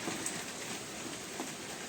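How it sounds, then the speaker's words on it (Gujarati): Steady rain falls continuously, a dense hiss of drops on surfaces with no voices. "આવી રીતના વરસાદ ચાલુ છે"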